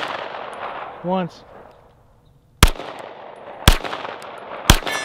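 Three sharp, loud gunshots from a Canik TP9SFL long-slide 9mm handgun, about a second apart, each a sudden crack with a brief tail, after a short spoken word and a soft electronic beep.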